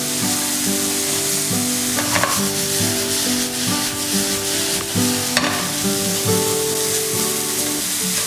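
Carrot and cauliflower cook in a pan with a steady, fairly loud sizzle. Occasional stirring scrapes come through, and a faint steady hum sits underneath. No one talks.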